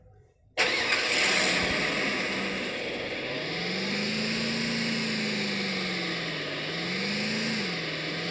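A car in the Free Fire video game starts abruptly with a loud engine crank, then settles into a steady idle with slight rises in pitch as it revs.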